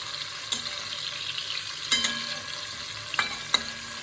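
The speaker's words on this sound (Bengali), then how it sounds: "একটুখানি কুমড়ো ভাজা চলছে এটা মোটামুটি হয়েই এসছে" Pumpkin pieces fry in oil in a pan, giving a steady soft sizzling hiss throughout with a few sharp clicks and scrapes of stirring at intervals. No one speaks.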